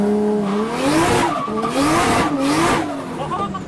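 A Nissan S14 with a 1JZ engine launches in second gear, its loud engine rising in pitch while the tyres squeal, heard close and continuous.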